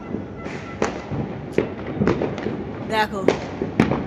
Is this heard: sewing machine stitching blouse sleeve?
no